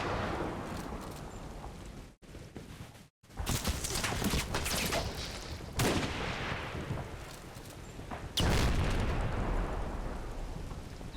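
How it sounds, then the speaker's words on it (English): Rifle gunfire and heavy explosions from the WWII video game Combat Mission: Battle for Normandy, with dense booming rumbles and sharp cracks, a short drop-out, then a loud burst near the end. "Don't know who the rifle shot was."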